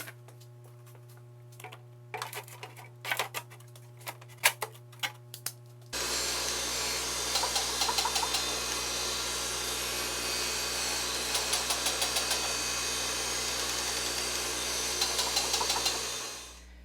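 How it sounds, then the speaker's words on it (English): A surface grinder grinds steel gauge buttons held on a magnetic chuck, a steady dense hiss of wheel on metal that starts abruptly after a few light ticks and knocks, runs continuously at close range, then cuts off near the end. "I'm going to grind on them now"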